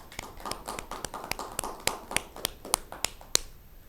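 A studio audience at a Christmas celebration on a Catholic TV set applauds with scattered, sharp claps that come close and fairly faint, spaced irregularly rather than as a dense ovation.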